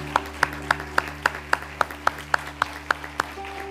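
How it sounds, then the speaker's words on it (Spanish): Church congregation clapping in a steady, unison rhythm of about a dozen sharp claps, evenly spaced and moderately loud over a constant low electrical hum. "Dale un aplauso al Rey de Reyes."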